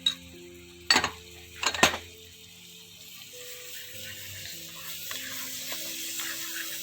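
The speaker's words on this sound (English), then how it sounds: "We'll saute it nicely. And 1 teaspoon of shallots." Shallots sautéing in a pan on a home stove, a low steady sizzle running throughout, with a few sharp clinks of a utensil against the pan near the start.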